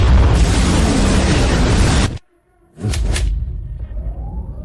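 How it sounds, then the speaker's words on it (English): A warship's main cannon fires at maximum power: a sustained roaring blast cuts off abruptly into silence, then a second burst of booming energy rises and fades into a lingering rumble. "Main cannon, maximum power."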